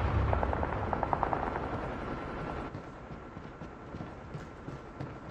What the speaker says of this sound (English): Stealth chopper inbound.